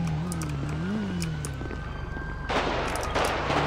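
Gunfire in a GTA roleplay server: a steady burst of rapid shots from 2.5 seconds on, over a droning engine-like hum and background game noise.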